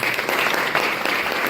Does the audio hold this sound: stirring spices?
no